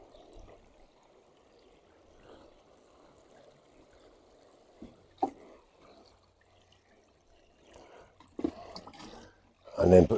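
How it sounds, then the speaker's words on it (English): Gentle watering in a garden, a soft steady trickle of water running for several seconds, close and quiet, with a few handling knocks and rustles toward the end. "So we're just going to give it a gentle water."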